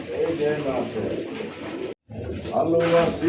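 Arabian pigeons with their chicks give low, throaty coos that repeat through the clip, close and fairly loud. Nearby voices and other loft noise partly mask them, and the sound cuts out for a moment before the cooing returns.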